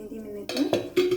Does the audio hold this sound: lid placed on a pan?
yes